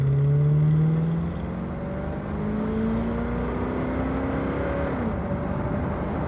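A 1964 Ford Galaxie XL 500 convertible engine accelerating, its pitch rising steadily, dropping at a gear change, then climbing again; loud, close and continuous with no talking.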